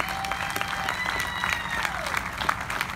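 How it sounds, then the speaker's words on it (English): Audience applause for a young bluegrass player at a bluegrass festival, a steady dense wash of many hands clapping throughout, with faint voices underneath. "big round of applause for him"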